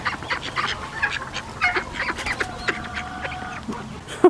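Ducks quack and honk repeatedly in a loose, irregular chorus nearby, with no talking.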